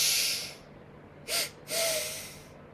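Slow, deliberate breathing during a guided morning breath-work routine: an airy hiss trails off, then two distinct breaths follow, a short draw and a longer exhale, close and quiet with no voice over them.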